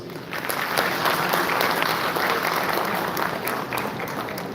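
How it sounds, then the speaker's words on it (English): Audience at an engineering and ceramic technology college convocation gives a warm round of applause for the dignitaries, a continuous, full-hall clapping that stays even and loud throughout with no talk over it. "May we once again have a warm round of applause for all our distinguished dignitaries, please."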